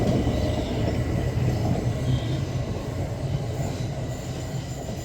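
A train passing through St Denys station: a steady, loud rumble of wheels and engine throughout, close by, with no talk over it.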